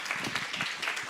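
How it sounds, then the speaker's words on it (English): Audience applause at a Sunday feast gathering, a moderately faint, steady patter of many hands clapping for about a second with no speech. "loud applause from him, please, again."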